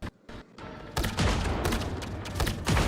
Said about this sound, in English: Rockets launching.